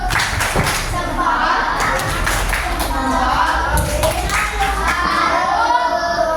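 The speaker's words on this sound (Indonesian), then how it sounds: "Kita berikan tepuk salut untuk kelompok 4." Third-grade elementary classroom children perform a rhythmic salute clap together, sharp claps mixed with thumps and taps alongside loud chanting and chatter from the kids.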